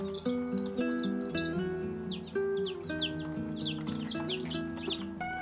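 Fifty newborn chickens in an incubator cheep and cluck in a dense, continuous chorus of high, overlapping peeps, close and steady without pause, with no talking.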